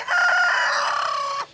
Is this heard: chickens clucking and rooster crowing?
yes